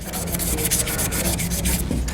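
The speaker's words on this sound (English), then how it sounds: "just sanding with the grit, trying to reduce any sanding rings" Abrasive paper sanding a turned wooden pen spinning on a lathe, a steady close rasping rub with a gently pulsing texture, loud and continuous with no talk.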